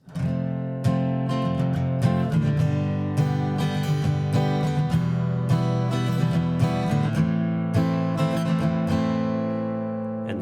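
F barre chords are strummed repeatedly on guitar in a steady rhythm, full and ringing, played close with no voices.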